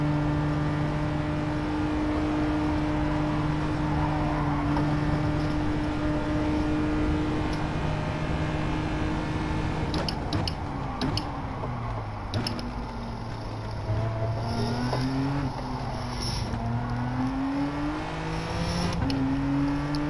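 Race car engine in a racing video game on an FIA practice session, a continuous loud droning whine holding steady, then rising and falling in pitch through gear changes, with no talking.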